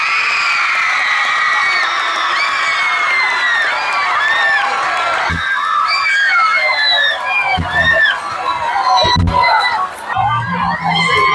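A large crowd of secondary school students at an inter-campus award ceremony cheers loudly, with high shouts, whoops and overlapping excited voices sustained throughout, growing choppier toward the end.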